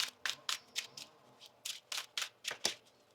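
A deck of tarot cards being shuffled in a series of quick riffling bursts, each a crisp papery flutter, close and fairly soft with short pauses between.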